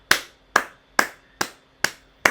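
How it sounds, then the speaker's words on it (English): Six sharp hand claps, evenly spaced about half a second apart, close and crisp with no talking. "I've clapped at each of these already because it's cool."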